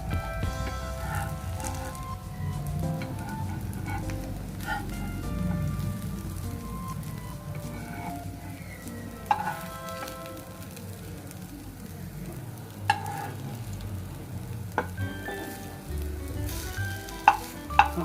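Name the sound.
soya kebab frying in oil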